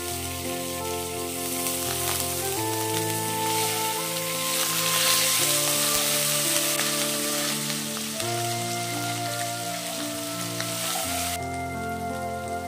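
Cardamom and ginger paste sizzle steadily in hot oil in a pan, for a vegetarian cabbage curry, with a dense and fairly loud crackle up close and a low hum underneath.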